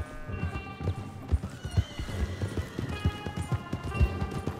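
In Red Dead Redemption 2, a horse gallops with uneven, thudding hoofbeats and lets out a whinny, fairly close and loud amid ambient game sound.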